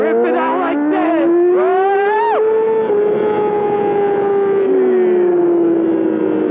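A Yamaha R6 with a full M4 exhaust system rips through rapid high revs, the engine pitch climbing in quick bursts before holding a loud, sustained scream that slowly drops, heard up close while riding.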